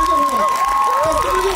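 A crowd at a rap battle cheers and applauds in a short, loud burst. Shouted voices rise over a wash of clapping.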